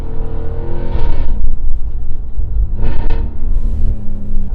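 A Cadillac Escalade V-Blackwing SUV, a heavy and tall vehicle, accelerates hard with a loud, deep engine roar heard from inside the cabin, rising in pitch through two surging pulls that settle back between them.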